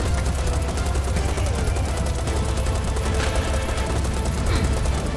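Gunfire in the video game Serious Sam 4, where snipers attack during a level set in Rome: a loud, relentless stream of shots and blasts with no break throughout.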